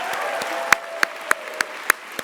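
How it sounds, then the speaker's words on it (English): Audience applause at Geisinger's white coat ceremony for a medical class: a steady patter of clapping with a handful of sharper, louder claps standing out every few tenths of a second, fairly close. "Dr. Schmuty deserves a round of applause for her amazing oratorio skills."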